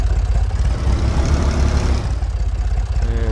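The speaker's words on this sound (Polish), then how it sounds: "Ale dźwięki są mega przy tym traktorku." A Massey Ferguson tractor engine in Farming Simulator 2019 runs with a steady low, pulsing diesel throb, loud and close, its rhythm shifting slightly near the end.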